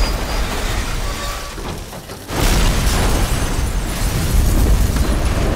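A tanker truck that has overturned outside a police station blows up in the Resident Evil game, starting with a low rumble and a brief lull, then a sudden loud boom that settles into a sustained roaring blast.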